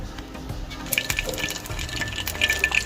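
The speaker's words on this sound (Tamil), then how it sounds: "அடுப்பில் சட்டி வச்சாச்சு ஆயில் ஊற்றிக்கலாம்" Cooking oil pours steadily into a pan on the stove in a short, close, gentle liquid stream, with light splashing and no talk.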